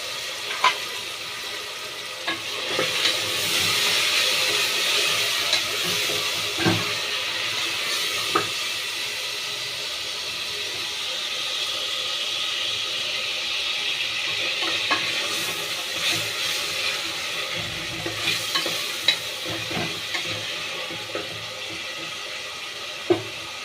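Tomatoes and ginger garlic paste fry for a vegetable kurma with a continuous hissing sizzle. Intermittent spoon scrapes and taps against the pan mark the stirring, close by, and no one speaks.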